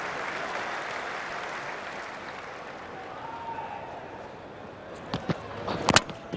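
A cricket crowd at an England versus Australia Ashes Test claps for a batsman reaching 7,000 Test runs. A broad, distant wash of applause swells and then thins, with a few sharp knocks near the end.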